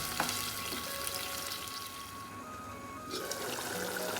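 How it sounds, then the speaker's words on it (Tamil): Kadappa curry with potato and water bubbles in a covered pot, a soft, continuous simmering fizz and gurgle close by with faint clinks and no voices. "பாருங்க கொதிக்குது."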